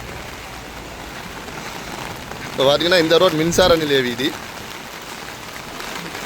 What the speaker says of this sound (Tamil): மழை தூறுது கொஞ்சம் பிளத்து பெய்யுது தூறுது